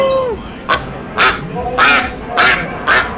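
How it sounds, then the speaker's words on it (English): Duck quacks in a fighting video game match, four or five short bright bursts spaced about half a second apart, loud and close over a busy game mix with a tonal sweep at the start. "There's the duck."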